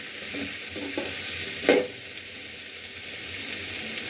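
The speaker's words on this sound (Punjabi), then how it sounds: "ਆਲੂ ਸਾਡੇ ਭੁੱਜ ਰਹੇ ਨੇ" Potatoes frying in a pan give a steady sizzle, with a brief louder stir or scrape midway through.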